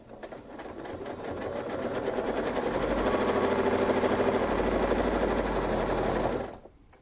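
Sewing machine stitching quilted arcs guided by a ruler, a fast continuous mechanical whir that ramps up, runs steadily for several seconds, then stops abruptly.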